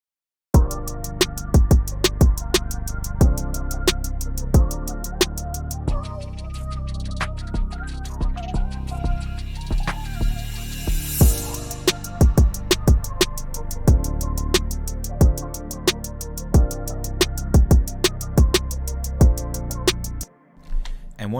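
A late-night R&B beat, with a punchy drum pattern giving way to a soulful 90s-style vocal hook sample over steady hits, then cutting out near the end.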